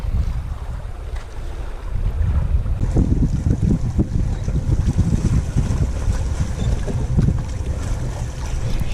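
Strong wind buffets the microphone on a fishing pier at Jetty Park, Cape Canaveral, with a loud, steady roar and gusts that build after the first few seconds, with surf faintly beneath.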